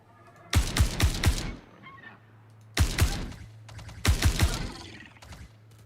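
Gunfire in an online multiplayer video game: two close, loud bursts of rapid shots separated by a short pause, then a third burst, with low background hum between.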